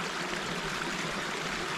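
A valley stream trickles steadily over rocks, a constant hissing wash of flowing water with no break, close and fairly quiet.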